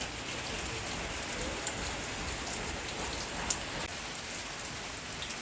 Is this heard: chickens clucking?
no